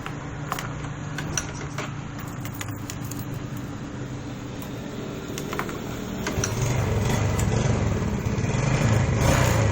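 A Yamaha Vega R motorcycle engine runs steadily at idle close by, its rumble swelling louder toward the end, with scattered clicks and light mechanical ticks over it and no talk.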